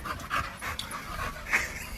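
A dog pants close by, a steady run of quick, breathy huffs over about two seconds with no talking.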